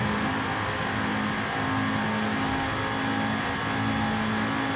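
Sports car engine in Forza Horizon 5 pulling hard at high speed with a whining, jet-like tone, loud and steady throughout.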